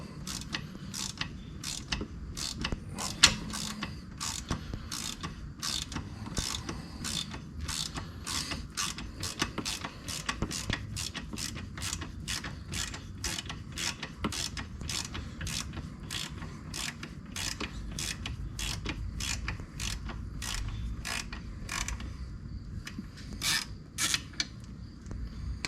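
A ratchet wrench works loose the drain and fill plug bolts on a Honda differential, a quiet close run of rapid, evenly spaced pawl clicks with brief pauses, over faint background noise.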